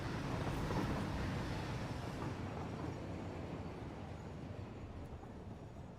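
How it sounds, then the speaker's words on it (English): A loud train rumbles past in the Satisfactory video game, a dense, steady roar that fades slightly as it goes, with no talk over it. "hello, loud train."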